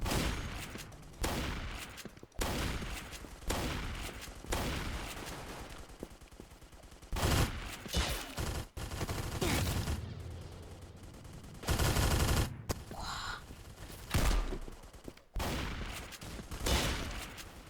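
Rapid gunfire from a weapon in the Roblox video game, with repeated bursts of shots and short pauses between volleys, loud and close throughout.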